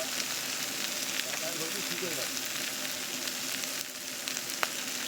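Mustard oil sizzling in a frying pan, a continuous loud hiss and crackle close up with a brief scrape near the end.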